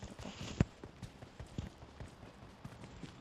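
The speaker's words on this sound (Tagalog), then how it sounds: "Ito may kabayo." Faint hoofbeats of a horse in PUBG Mobile clip-clop at a quick pace, a few sharper thuds standing out over a soft, low background.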